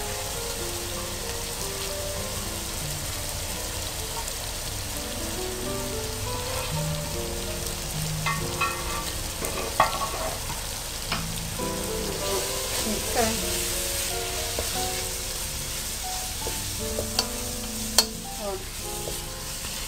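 Chicken, peas and carrots fry in a pan for chicken fried rice, with a steady sizzle throughout, scraping stir clatter and a few sharp utensil knocks; a voice briefly speaks underneath.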